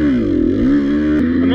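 A Beta 125 two-stroke motorcycle engine revs close by, its buzzing tone dipping and climbing before a quick blip near the end, loud and alone.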